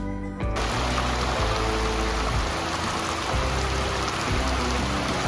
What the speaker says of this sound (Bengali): হঠাৎ করেই মুসুলধারে বৃষ্টি হতে শুরু হয়ে গেছে